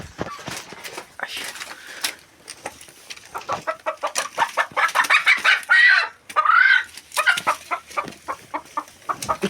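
Hens brought in at a yard near a bread-oven shed, clucking in a steady run of short, close calls that swell louder midway, with a few rising squawks and faint talk in the background.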